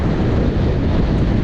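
Strong wind roars across a clifftop above Meganom beach in Crimea during a storm, a loud, continuous buffeting rush that batters the microphone for the whole moment, with no pause or break.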